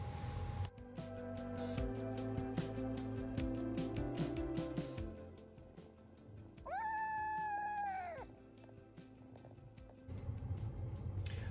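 A black cat gives one drawn-out, clear meow in the middle, close and distinct, amid quiet background music and clatter before and after.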